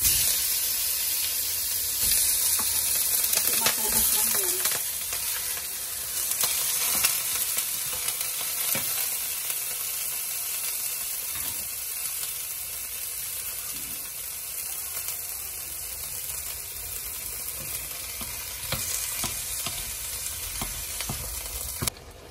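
Beef spring rolls with frozen vegetables fry in a little oil, giving a continuous close crackling sizzle with occasional sharper pops and soft stirring noises, and no talk.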